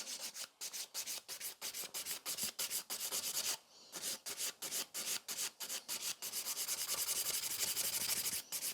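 Nail file rasping back and forth across the free edge of a gel nail to thin it, a steady run of quick close strokes with only brief pauses.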